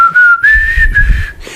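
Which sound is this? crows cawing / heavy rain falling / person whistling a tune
person whistling a tune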